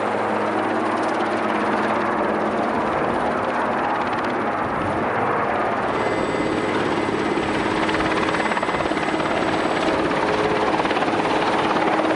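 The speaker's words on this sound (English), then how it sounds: "The heavy hydraulic pump power packs press the helicopter to the limit." A helicopter strains near its lifting limit while hoisting heavy hydraulic pump power packs during a salvage operation, its rotor and engine roar steady, loud and close throughout with no talk.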